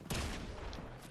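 Gunshots in the game Fortnite, a sharp loud blast at the start followed by a rapid rattling burst of fire that fades off, with no speech.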